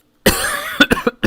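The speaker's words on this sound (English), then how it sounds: "And the cough is still here" A person coughs close to the mic in a drawn-out burst followed by three or four short, sharp coughs, loud and alone with no talking, while streaming a VR sim race in Assetto Corsa Competizione.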